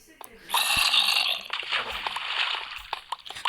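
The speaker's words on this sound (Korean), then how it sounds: "지하에 물이 있나 봅니다. 물소리가 들리는 거 보면." Sloshing, splashing underground water in Minecraft Pocket Edition rises after a brief pause and continues with gurgling and small clicks, fairly close and moderately loud.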